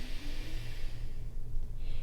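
A slow, deliberate exhale through one nostril during alternate nostril breathing, a close, airy nasal rush that swells and fades with soft breathy texture throughout.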